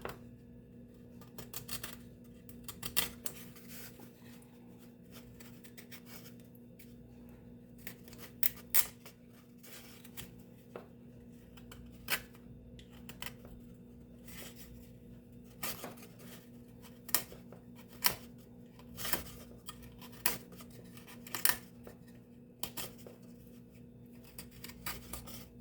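Knife cutting an angle into the inside of a violin rib while trimming the linings, a run of short, sharp scraping clicks at irregular intervals over a low steady room hum.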